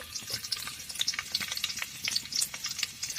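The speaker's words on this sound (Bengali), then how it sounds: "এখন এগুলো ভেজে নেব।" Garlic and red chili frying in hot oil in a kadai, crackling and popping in quick, irregular bursts at a modest, close level, with no voices.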